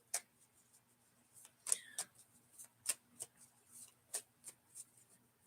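Crisp riffling and snapping of cards being shuffled, a series of sharp clicks and flutters close by in a quiet room.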